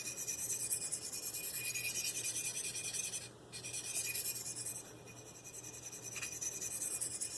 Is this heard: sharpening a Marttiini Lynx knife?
yes